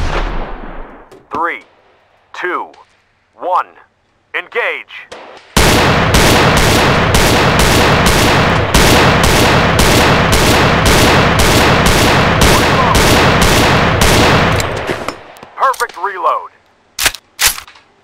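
Rapid sustained bursts of gunfire from the VR shooting game Gun Club VR, loud and continuous for about nine seconds, bracketed by a few separate single shots with someone speaking between them.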